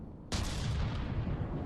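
A particle cannon fires in a mech combat video game, one sudden loud blast that breaks into a long, roaring rumble that carries on to the end.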